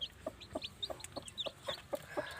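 Rhythmic clucking from native-breed chickens, about eight short clucks in a steady series, with faint chirps from small birds in the background.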